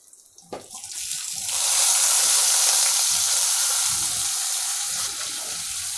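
Bitter gourd frying in oil: a brief clatter, then a loud, close, bubbling sizzle swells up and holds steady, with no one speaking.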